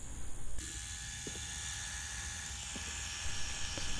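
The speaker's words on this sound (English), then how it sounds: "I'll let you guys watch and see how each machine responds to how I pack in black" A tattoo machine packing in black ink, a steady mechanical buzz and whir with a faint rattle running throughout, close and even, a few light ticks over it and no voices.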